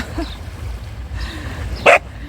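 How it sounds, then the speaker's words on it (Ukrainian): A dog on a seaside pier gives a single short, sharp bark close by over low background noise, with a few faint yips before it. "Ні, на мене не гавкай."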